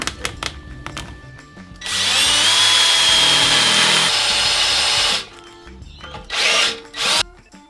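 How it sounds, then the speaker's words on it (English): A power drill whines loudly in a sustained burst drilling bolt holes in a cast iron router tabletop, cuts off, then returns in two shorter spurts, with quieter tool handling between runs. "drill those bolt holes"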